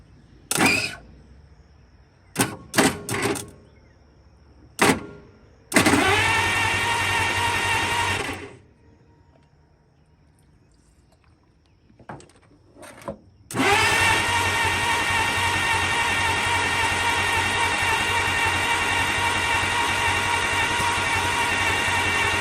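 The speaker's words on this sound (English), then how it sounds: "We should be able to whirl her over and she might fire off." A 1939 International fire truck engine, not getting fuel, cranks over on its starter: several short whirring bursts, then a longer crank, a pause, and a sustained steady cranking drone that never catches, close and loud.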